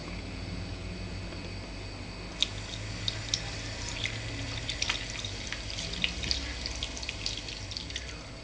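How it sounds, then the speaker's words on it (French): Water running from a tap into rice in a bowl or pot to rinse it for maki, with steady splashing and scattered small drips and patters, fairly quiet and close, no talking. "Maintenant, on met un peu d'eau."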